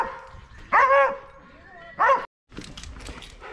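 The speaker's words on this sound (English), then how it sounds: "And there's plenty of dogs here." Dogs on a steep hiking trail at Wattles Garden Park give two close, loud yipping barks with a whimpering tone, separated by a pause, with some background talk and outdoor noise.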